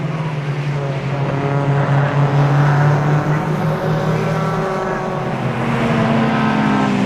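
Racing cars at Croft circuit, a 750 Motor Club race, roar past with a sustained, loud multi-engine drone that swells and shifts in pitch, steady throughout with no talk.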